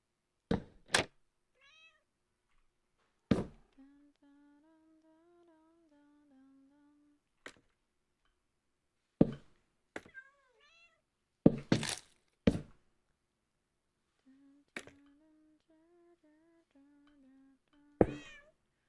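A cat gives several drawn-out, fairly close meows amid scattered knocks and thumps from nearby building work.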